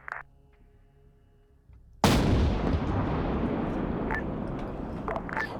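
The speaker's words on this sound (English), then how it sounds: "They just blew up my BMP." A BMP vehicle is destroyed by a sudden loud blast in a military video game, followed by a sustained roaring rumble with faint clicks and distant pops.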